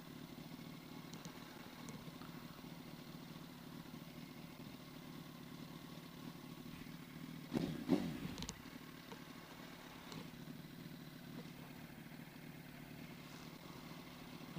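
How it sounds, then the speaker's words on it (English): Yamaha R1 motorcycle idling with a clutch noise, a steady low engine hum at moderate distance, broken midway by a short louder mechanical rattle and a few fainter clicks. "I don't know what is going on with that clutch noise."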